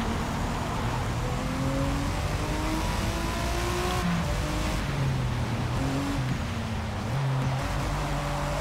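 A BMW race car engine in Forza Motorsport on a wet track, a steady, moderately loud drone with shifting tones as it revs and changes gear, heard alone without talk.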